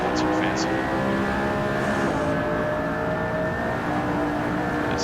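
A McLaren P1 engine in the racing game Assetto Corsa at Laguna Seca holds a steady high drone with layered harmonics, briefly dipping as the car lifts, loud and continuous.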